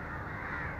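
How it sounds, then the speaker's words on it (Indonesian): Crows cawing in a place where many of them gather for a crow-calling ritual, harsh rasping calls filling the whole short moment, close and steady with no talk. "ini burung gagak di sini ini masih terbilang banyak ya"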